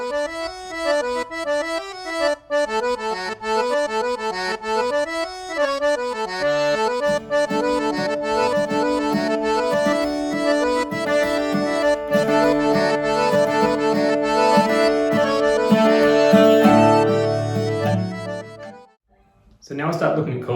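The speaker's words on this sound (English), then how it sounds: "I'd come in on a drone, just on the two top strings, like I said, and then bring in the bass later." Stringed instrument playing a traditional folk tune, starting over a drone on the two top strings before a bass line enters partway through; steady, close and fairly loud, alone without talk, ending with a brief pause.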